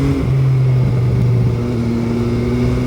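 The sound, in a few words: MV Agusta Brutale 800 motorcycle counter-rotating engine accelerating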